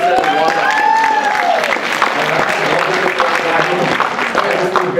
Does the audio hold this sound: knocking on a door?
no